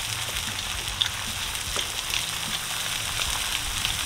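Bacon frying in oil crackles with a dense, even sizzle, close and steady with a few sharper pops, and no one talking over it.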